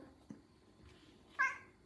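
A cat in a small apartment gives a single short, faint meow near the end, following a light tap, against quiet room tone.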